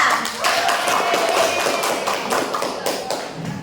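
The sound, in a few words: classroom applause for group 3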